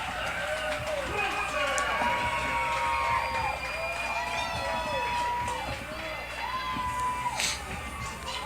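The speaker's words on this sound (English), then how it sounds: "Crowd goes crazy" Crowd at a minor-league baseball game cheering an RBI single, a loud sustained roar of shouts and whoops with an announcer's voice over it.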